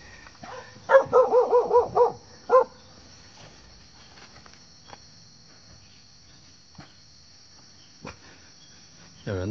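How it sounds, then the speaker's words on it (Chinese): Dogs at a remote mountain farm bark in a quick run of about six sharp yaps, then one more bark, followed by quiet with faint distant sounds and a cricket-like hum. "哇，这么多狗，三条狗"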